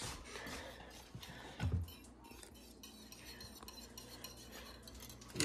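A whisk beats French toast batter in a bowl, giving quiet, quick metallic clinks and scraping up close, with a soft thump midway and faint voices in the background.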